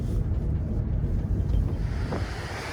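Stormy ocean surf churns along a bay shore, a dense, continuous roar of waves mixed with gusting wind buffeting the microphone, loud and close with no voices.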